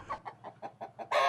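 Poultry on a farm where turkeys, guinea fowl, broilers, pullets and Rhode Island Red breeding roosters are raised, clucking in a rhythm of about six short calls, close and fairly faint, ending in a louder burst.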